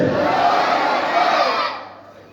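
A large congregation at an Islamic religious sermon roars a loud unified shout of Allahu Akbar in answer to a takbir call, a massed voice that swells and then fades over about two seconds.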